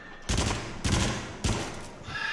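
Shotgun blasts ring out in the VR horror shooter Until Dawn: Rush of Blood, three heavy booming shots spaced roughly half a second apart, each with a sharp onset and a rumbling tail over faint game ambience.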